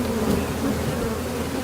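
A huge swarm of honeybees at yellow hive boxes a few kilometres outside a city produces a thick, constant droning hum of beating wings, near and loud throughout.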